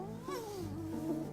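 A white cat yowls in a single drawn-out, wavering cry lasting just over a second, close and fairly loud, with no voices over it.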